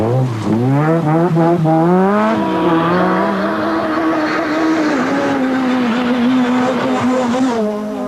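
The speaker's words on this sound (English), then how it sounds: "master of front-wheel drive, Malcolm Wilson, sending the sparks flying in the Vauxhall Astra GTE." A Vauxhall Astra GTE front-wheel-drive rally car at the 1989 Circuit of Ireland rally, its engine roaring loud and close, rising in pitch through the gears and then holding a sustained high rev throughout, with no voices.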